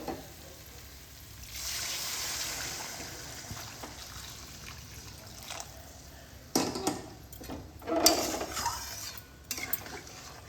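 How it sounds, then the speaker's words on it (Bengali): Hot water poured into a pan of fried spice masala for jackfruit kofta curry, a steady hiss of pouring followed by scraping and stirring clatter of a spoon against the pot. "এবার আমি এর মধ্যে দিয়ে দিচ্ছি গরম জল"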